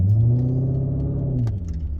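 A Genesis 5.0 V8 engine in sport mode revs briefly to about 2,000 RPM, a close, loud, deep rumble that holds and then eases off near the end.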